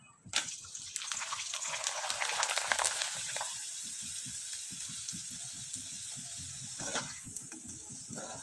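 Mung dal papad frying in hot oil, a steady sizzling hiss that flares at the start and then settles into a continuous fizz, with faint clicks beneath.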